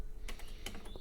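Several quick, light keystrokes on a wired Apple computer keyboard with extra USB ports, used as a secondary keyboard, tap out an uneven rhythm of faint clicks close by over a low background hum, with no voices.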